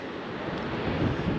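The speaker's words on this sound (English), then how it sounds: "Big waves." Wind-driven ocean waves rolling into a bay along the coast at Giant's Causeway, Northern Ireland, form a steady broadband wash with gusty wind buffeting the microphone, continuous and fairly even throughout, with no talking.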